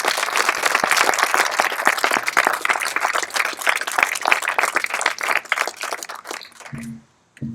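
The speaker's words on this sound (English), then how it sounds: "So please give yourselves a round of applause." Dense applause from a crowd at a library grand opening, many hands clapping steadily for several seconds before it thins out and stops.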